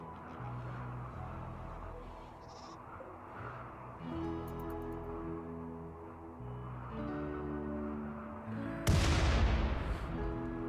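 Mortar shells in the video game Rimworld thump in the distance under a droning game score, then a sharp, loud impact explosion bursts near the end.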